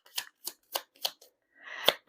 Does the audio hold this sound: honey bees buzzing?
no